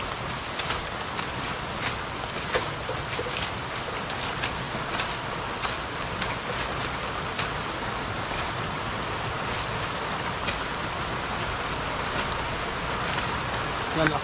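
Rain falls steadily outdoors as a continuous hiss, with crisp individual drops pattering on surfaces throughout.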